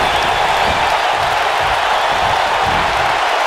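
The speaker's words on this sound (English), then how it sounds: "Rana, listen to this crowd." Arena crowd cheering in the WWE 2K19 wrestling game, a steady, loud wash of crowd noise with applause that holds at the same level throughout.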